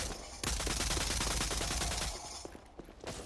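Rapid automatic gunfire bursts loudly and continuously in a free-to-play shooter game, a dense fusillade that then thins into scattered shots and quieter action sounds.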